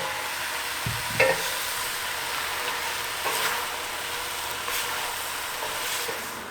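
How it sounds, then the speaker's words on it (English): Fresh beef mince browning in a hot pan with onions and mushrooms for lasagne, giving a steady close sizzle broken by a few brief stirring clatters. "500 grams of fresh beef mince, and you're going to add this in and fry until brown."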